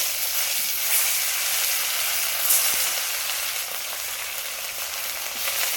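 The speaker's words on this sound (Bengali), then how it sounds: "দেখো কড়াতে তেল দিয়ে দিয়েছি, তেলটা আমার তেতে গেছে, মাছগুলো তুলে দেবো।" Bhola fish frying in hot oil in a wok makes a dense, continuous sizzle close by, with small crackling swells but no break and no voices.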